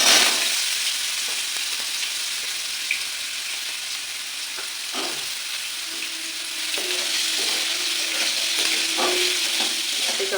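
Potatoes and dried red chillies fry steadily in a hot pan, a continuous bright sizzle with occasional stirring scrapes and clinks near the end, no talking.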